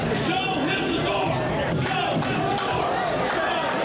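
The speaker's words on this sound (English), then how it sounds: "Crowd starting to chant, "Show him the door."" A wrestling crowd at a Ryse Wrestling anniversary show chants together, a dense, loud roar of many voices filling the arena without a break.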